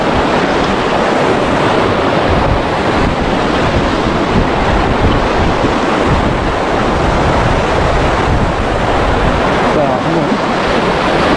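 Stream water rushes over stones at a campsite in Jeongseon, a loud, steady broadband roar that continues without a break.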